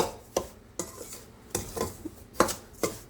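Chiroti rava (fine semolina) is dry-roasted in a pan over low heat for jaggery rava laddoo, heard as several distinct, close scraping sweeps of a spatula at a steady rhythm with quiet pauses between.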